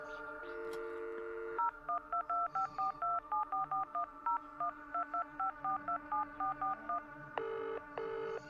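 A payphone in Radiohead's Kid A Mnesia VR exhibition plays a long steady dial tone, then a quick rhythmic run of about twenty short touch-tone beeps, followed by two more sustained tones at the end.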